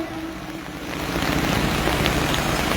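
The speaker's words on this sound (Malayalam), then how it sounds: "മഴയാണ്." Rain falling over an outdoor political rally speech venue, a dense steady hiss that grows slightly louder partway through, with no talking in this short stretch.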